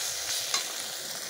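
Spices for a rohu fish roe and potato curry fry in oil while being stirred, a short, close burst of sizzling with one soft scrape.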